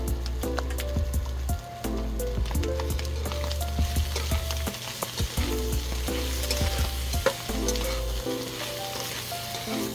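Filipino-style spaghetti sauce with liver spread sizzling steadily while being mixed in a pan, with close crackling and stirring clatter under background music, no talking.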